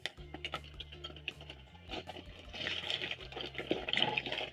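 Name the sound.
potato pieces dropped into hot cooking oil with skimmer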